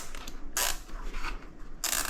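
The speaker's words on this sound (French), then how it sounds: "on va venir finalement serrer le riselant tout bêtement" Rilsan zip tie pulled tight around a Polisport swingarm protector on a CF Moto 450 MT motorcycle, giving close ratcheting zips in short bursts, with a louder pull at the start and another at the end.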